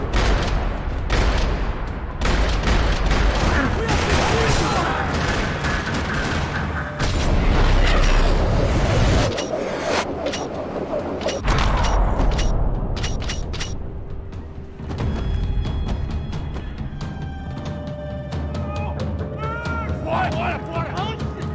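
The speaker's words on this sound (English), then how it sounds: "Another parking lot rattling with gunfire." Dense bursts of rapid gunfire and heavy booms crackle loudly for a long stretch in a parking lot in Max Payne 3, with mechanical clatter and some thinner sounds in the quieter later part.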